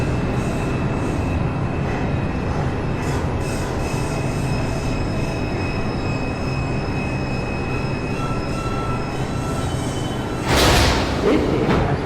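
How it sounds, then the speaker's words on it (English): A New York City subway 1 train bound for South Ferry rolls along with a loud, steady rumble and continuous wheel squeal, and a brief louder burst near the end. "This is a South Ferry bound 1 train."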